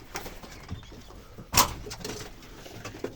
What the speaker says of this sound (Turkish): Hala cikleyen var. Cik cik. Cikleyen var.